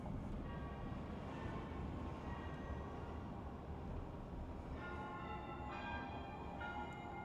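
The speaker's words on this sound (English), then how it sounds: "Those bells that you are hearing, they are the Christ Episcopal Church bells" Christ Episcopal Church bells ringing at noon in downtown New Bern, heard faintly and far off through open car windows; ringing tones come in during the second half over a steady wash of traffic and wind.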